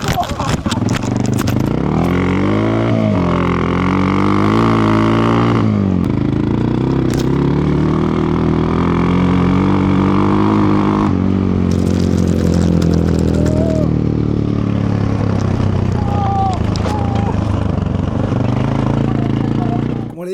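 A Suzuki DR 600 motorcycle, restored after 18 years abandoned, idles and revs loudly and close with a steady single-cylinder rumble, its pitch rising and falling. People talk over it.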